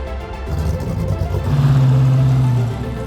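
Vintage cars, from a 1935 Bugatti T55 to a 1980 BMW M1, parading through formal gardens during the Tour Auto rally, one engine droning steadily and swelling slightly as it passes close by, loud and continuous, with no talking.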